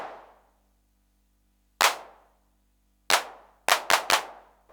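Drum machine clap from a Roland TR-1000, its size and tail level adjusted: five sharp, bright claps, one alone, then a gap, then a quick cluster of four, each with a short decaying tail over silence.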